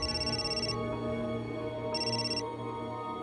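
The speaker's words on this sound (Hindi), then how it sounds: "ले, तुम्हारे छोटे भाई का फोन है।" A telephone ringtone repeats in two bursts of ringing, steady and fairly loud, with no talk over it.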